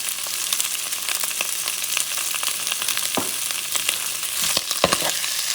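Salted shrimp fry in a pan over medium-high heat, a loud, dense, continuous sizzle close by, with a few brief clacks of stirring near the end.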